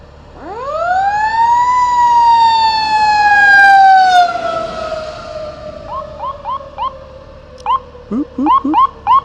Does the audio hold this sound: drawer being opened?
no